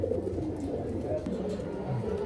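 Pigeons coo softly and low in a continuous murmur, close by, with someone talking over them.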